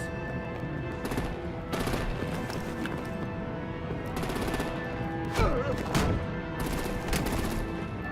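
Gunfire and artillery from the Batman: The Enemy Within game, with repeated bursts of rapid shots and heavy blasts over continuous rumbling action, loud and close throughout.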